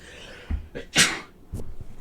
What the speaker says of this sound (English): So I had a sneeze coming on, but I also kind of had a bit of gas.